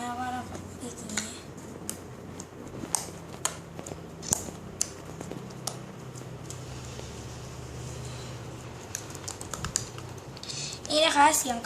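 Slime in a small jar is poked repeatedly, giving soft, irregular clicky squelches close to the mic, while someone talks quietly through much of it.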